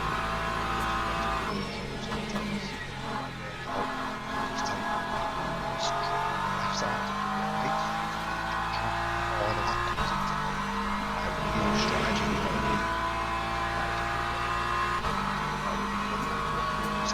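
Race car engines from the Le Mans Ultimate racing game roar continuously and loudly, with steady droning tones and occasional revving and tire squeal over a dense mechanical mix, no talk.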